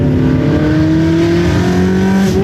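A Ferrari 360 engine with a gated manual conversion drones steadily at high revs, its pitch rising slightly as it revs, loud and close throughout with no voices.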